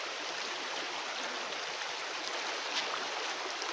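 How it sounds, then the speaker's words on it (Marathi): Water flows steadily in an outdoor stream as wild greens are rinsed in it, a continuous broadband rush that stays even and moderately close, with no voices. "वावत्या पाण्यात भाजी धुतल्यामुळे भाजीची सगळी माती मस्त धुवान गेली"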